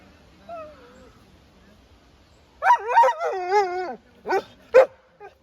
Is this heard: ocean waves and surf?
no